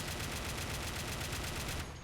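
Dense, continuous barrage of rapid gunfire from British tanks in a Red Rising mod battle, a loud sustained roar with repeating bursts that cuts off near the end.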